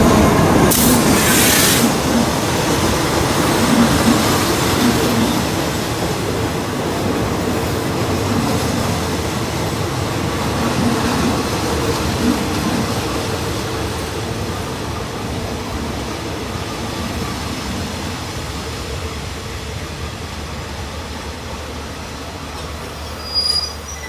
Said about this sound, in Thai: วันนี้ทำขบวนโดยอาร์ซอมนะครับ อาร์ซอม 4301 นะครับ